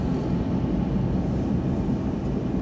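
An airplane passes overhead above a road in Mojokerto, giving a steady, broad, droning rumble that holds evenly for the whole moment without any talking.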